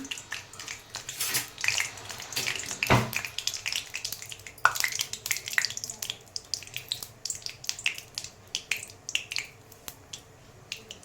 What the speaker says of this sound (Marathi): आणि मोहरी चांगली तडतडू द्यायची